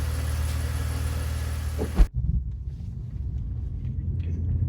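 A BMW E46 driving on a test road after coolant and oil top-ups, steady engine rumble and road noise that cuts abruptly, leaving a quieter low cabin drone.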